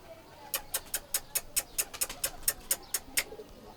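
Pigeons give a quick, even run of about fifteen sharp, bright pulses, with no voices around them. The beats are most likely wingbeats or wing claps from a bird in flight, close and moderately loud.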